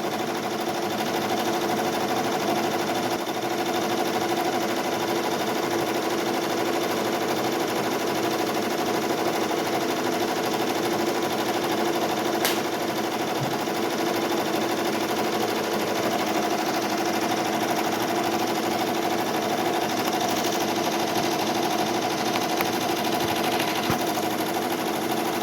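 A Ricoma embroidery machine stitches an embossed butterfly design onto a fluffy towel, humming and chattering in a fast, steady mechanical rhythm that holds constant and loud throughout.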